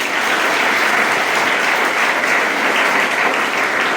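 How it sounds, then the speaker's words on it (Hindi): Loud, sustained applause from a school audience at a residential high school honouring ceremony, a dense, steady wash of clapping filling the whole stretch with no talk over it. "एक बार जोरदार ताली"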